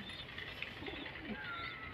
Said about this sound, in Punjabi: ਇੱਥੇ ਕਬੂਤਰ ਹੋਣੇ